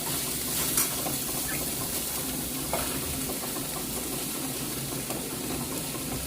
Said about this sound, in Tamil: நல்லா அதை மிக்ஸ் பண்ணி விடுவேன்